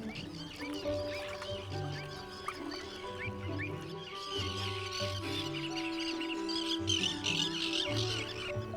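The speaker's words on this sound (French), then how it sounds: "Dans une colonie de sternes pierre-garin, la place vient souvent à manquer." A crowded colony of common terns calling, with dense, overlapping harsh cries and chattering squawks from many birds, continuous and fairly close, with low-pitched sounds from nearby birds underneath.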